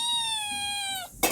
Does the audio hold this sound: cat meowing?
yes